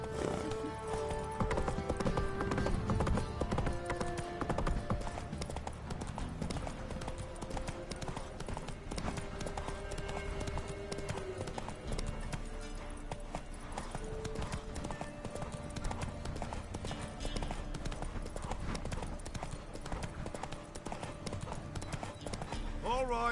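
Roach, a horse in The Witcher video game, gallops steadily, hooves clip-clopping in a continuous fast rhythm throughout, with game music and ambience underneath.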